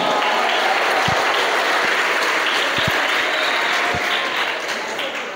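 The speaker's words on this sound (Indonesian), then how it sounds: "Tepuk tangan buat Gazi hari ini ya." Students in a seminar at an Islamic boarding school in Jakarta applaud a new master of ceremonies, loud continuous clapping with a few heavier thumps, sustained for over five seconds and easing slightly at the end.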